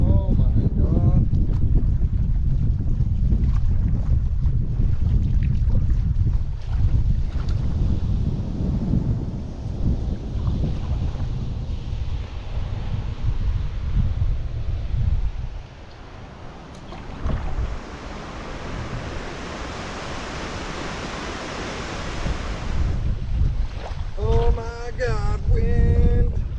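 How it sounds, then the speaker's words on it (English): Strong wind gusting across a lake during a Temagami canoe trip on Lady Evelyn, a loud continuous roar buffeting the microphone, easing briefly midway before rising again, with a person speaking near the end. "God, wind!"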